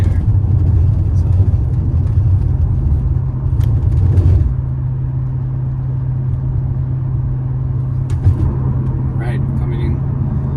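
Inside a 1995 BMW 840ci E31 on the move, a steady low engine drone and road rumble fill the cabin, easing slightly partway through, with a few faint clicks over the constant hum.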